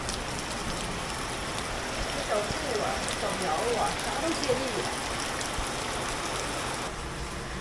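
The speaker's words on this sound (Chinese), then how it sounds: "现在有这点雨声是真得劲儿啊！" Rain falls steadily after a long dry spring at a rural home, a constant close patter and hiss on surfaces, while a person speaks over it.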